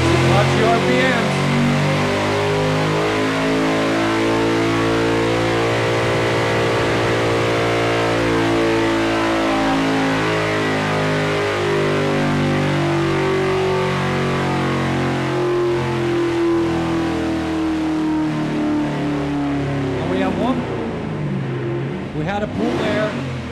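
A car engine in a shop revs up to about 6,800 RPM and back down, with a slight misfire, its rising and falling roar filling the room while people talk over it.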